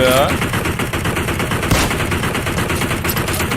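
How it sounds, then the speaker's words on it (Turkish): Rapid automatic gunfire from the PUBG Mobile battle royale game, a dense, steady stream of shots running throughout, loud and continuous, with a voice talking over it. "Gidiyor da mermi attığın yere gitmiyor."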